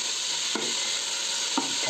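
Chopped tomatoes go into onions frying in oil for a Tamil-style chicken dum biryani, giving a loud, steady sizzle broken by two scraping stirs of the spoon, with no voices.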